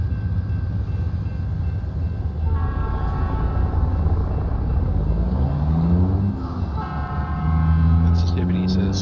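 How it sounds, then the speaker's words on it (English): A train from American Truck Simulator rolls past close by with a steady low rumble, its clattering wagons rising and falling in loudness, while a voice talks over it. "Here comes the train."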